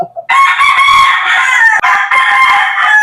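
Up close, an Allen gamefowl rooster on a game farm crows loudly and at length in one sustained, ringing call with a brief break near the middle before carrying on.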